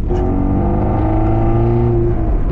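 A Porsche 968 CS engine with a new valved exhaust drones loudly and steadily nearby, its tone slowly rising and falling as it revs, with no talking over it.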